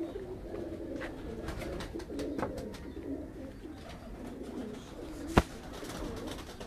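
Pigeons coo softly and steadily on a rooftop loft used for pigeon flying, a low continuous murmur with a single sharp knock near the end.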